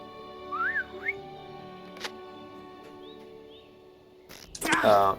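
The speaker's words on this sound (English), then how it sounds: "Use the whistle" A couple of quick, rising whistled notes from a summoning whistle in the game Lord of the Rings Online ring out near the start, followed later by a burst of bright chiming game sounds over a low background hum.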